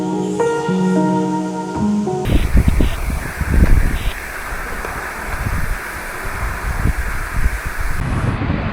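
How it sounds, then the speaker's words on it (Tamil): Agaya Gangai Waterfalls sends out a steady, broad rushing roar of falling water and blowing spray that sets in after a brief start and carries on loud and unbroken, with no voices. "தூரத்தில் வரைக்கும் அதோட ஸ்ப்ரே அடிக்குது."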